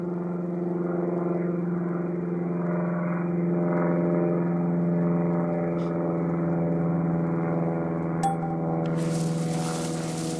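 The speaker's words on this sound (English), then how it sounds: "There's the plane." A propeller plane in the DayZ survival game drones steadily overhead, a loud even engine hum with strong low harmonics holding for several seconds, followed near the end by sharp noisy bursts.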